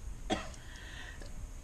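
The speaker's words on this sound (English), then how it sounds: "We're going to cough a little bit." A single short cough from someone nearby at an outdoor kitchen build, one quick burst near the start with quiet background hiss afterward.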